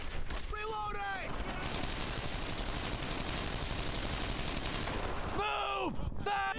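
Sustained, dense gunfire from Brothers in Arms: Earned in Blood, a World War II shooter, running loud and continuous with no gaps, while shouted voices break in at the start and again near the end.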